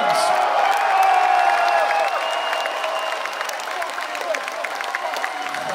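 Crowd applause and cheering for the drummer at a festival concert, a broad sustained roar with whoops and ringing stage tones underneath.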